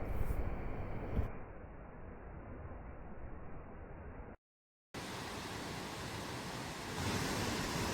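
Rushing water roars steadily from the tall Mae Tia waterfall deep in forest in Chom Thong, Chiang Mai, dense and constant, with a brief cut to silence partway through.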